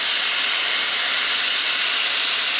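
Rib eye steak sizzling hard in a hot iron skillet just after being flipped, a loud, steady hiss of searing fat with no break.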